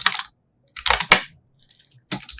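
Clattering keystrokes on a computer keyboard come in three short bursts with gaps between, close and clear, with no voice.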